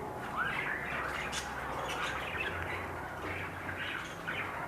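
Pet birds kept in a breeding room chirp and squawk continuously, a busy close chorus of overlapping calls with no talking.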